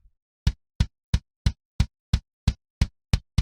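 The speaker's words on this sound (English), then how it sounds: "This is the kick drum." An 80s Tama Rockstar kick drum struck alone in a steady, evenly spaced series of ten punchy, close-miked hits, each with a sharp attack and short decay.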